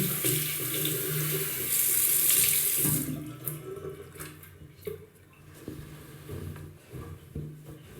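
Water runs from a sink tap while a face is washed, a loud steady splashing stream for about three seconds that then stops, followed by quieter drips, rustles and handling noises.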